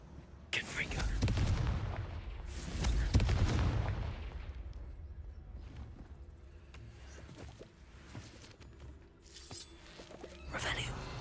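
Confringo blasting spells cast repeatedly in the Hogwarts Legacy video game, a series of booming bursts with rumbling decay, the loudest near the start and the rest fading lower, with spoken spell incantations heard between them.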